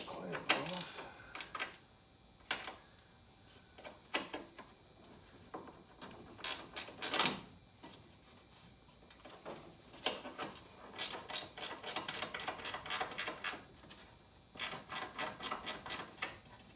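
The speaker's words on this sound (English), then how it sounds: "let's get this little clamp off" Small hose clamp being worked loose on a 1973 Oldsmobile 455 V8 engine, with scattered metallic clicks and ratcheting bursts, close and moderately loud, separated by quiet pauses.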